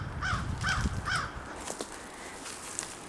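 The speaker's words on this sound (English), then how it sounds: "Crows are noticeable." Crows caw loudly in a forest, three harsh calls in quick succession followed by fainter scattered caws and rustling movement nearby.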